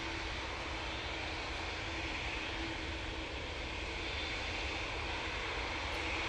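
A Boeing 787 Dreamliner passes at Manchester Airport, its jet engines giving a loud, steady roar that fills the whole moment with no break and no voices.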